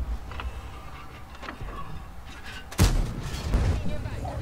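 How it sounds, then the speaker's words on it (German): Tank cannon shot in World of Tanks gameplay: one heavy, booming blast partway through, followed by a rumbling tail, with quieter game sounds before it. "Na, schieße ich natürlich blind die Munition raus."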